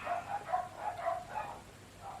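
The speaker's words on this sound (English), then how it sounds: "the dogs are going crazy next door" Neighbouring dogs bark next door in a string of muffled, rhythmic woofs, fairly distant and moderately loud, repeating about every half second.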